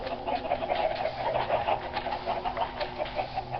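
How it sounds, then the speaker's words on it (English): Chickens clucking in a Minecraft survival game, a busy overlapping chorus of short clucks from several birds, fairly loud and continuous with no talk. "And my goodness, those chickens are loud."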